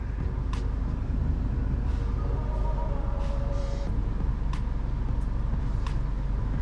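Isuzu D-MAX LS-E pickup in 4 high on an off-road section, a steady close engine drone and road rumble throughout, with a few brief sharp clicks and rattles over the top.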